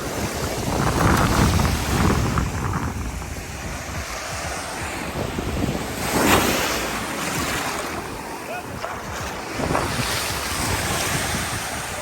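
Strong wind buffeting at an ocean shore on Oahu, roaring in gusts with surf rumbling beneath, loud and close with heavy microphone noise.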